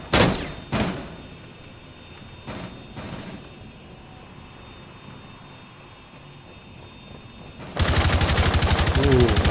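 Gunfire in a Rainbow Six Siege match as rounds are shot through a wall near a door: a few sharp bursts early on, then quieter ambience, and a loud, dense stretch of shooting at the end.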